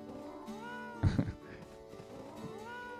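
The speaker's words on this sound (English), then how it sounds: "We can go annoy our cat a little bit." A cat meows in drawn-out, rising and falling calls, close and clear, with a brief thump partway through and a further meow near the end.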